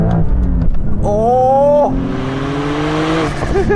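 A Porsche 911 Sport Classic engine revs hard and climbs steeply in pitch as the car accelerates, then settles into a steady drone, with a short startled exclamation from someone inside.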